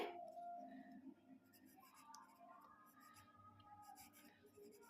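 Pen writing sentences on paper during a Bengali class exercise, soft close scratching with brief pauses over quiet room tone and faint background sounds.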